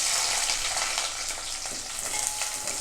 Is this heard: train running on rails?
no